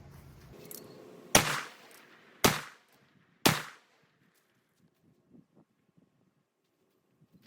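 Three sharp, loud gunshots from a .44 Magnum revolver with a 7.5-inch barrel firing 210-grain Lil Gun loads, about a second apart, each cracking and decaying quickly outdoors, followed by quiet with faint distant rustles.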